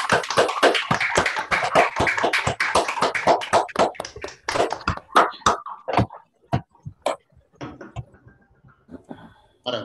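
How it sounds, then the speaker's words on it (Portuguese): Scattered applause comes from several participants in an online meeting over their open microphones. It starts dense and lively, then thins into sparse, uneven claps before fading out. "uma salva de palmas aí"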